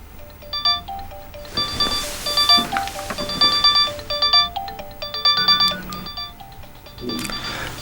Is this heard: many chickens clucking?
no